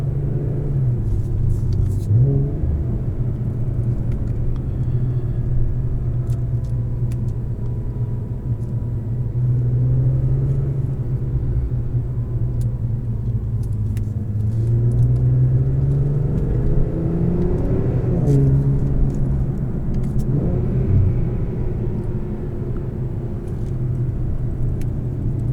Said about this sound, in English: you'll get some killer downshift noises